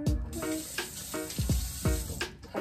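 Tap water runs to rinse off a dropped piece of food during camp cooking, a close, continuous splashing stream with a few gurgling bursts.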